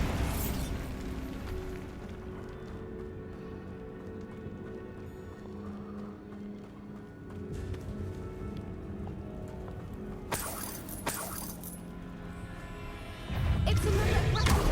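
Bombarda spell blasts in the game Hogwarts Legacy, dull rumbling booms over a steady hissing, crackling bed, with a sharp burst near the middle and a louder, heavy blast at the end.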